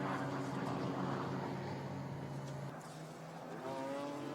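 A Porsche Cayman GT4-class race car heard during qualifying at a Thailand circuit, its engine a steady broad roar from a distance as it climbs toward a crest, with continuous track ambience and no clear talk.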